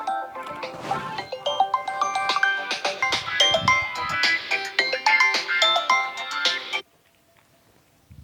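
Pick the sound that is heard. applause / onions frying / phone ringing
phone ringing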